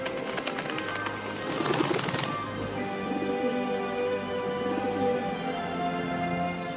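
A dove cooing, with soft, low, rounded calls repeating over several seconds against a faint background of other chirps and hum, moderately close and with no speech.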